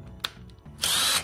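A power drill spins briefly, then runs steadily for a short burst while backing out 10 mm bolts on a Toyota Tundra headlight assembly, close and loud in a quiet garage.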